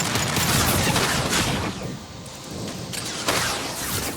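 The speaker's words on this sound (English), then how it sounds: "Firing a high impact shot." Mass Effect 2 gunfire rattles in dense, loud bursts of overlapping shots and impacts, with a short lull partway through before the firing picks up again.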